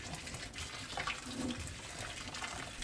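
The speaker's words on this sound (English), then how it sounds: "I pour boiling water." Boiling water poured over a whole raw duck being cleaned before seasoning for curry, a steady close splashing and running-water wash with no talk.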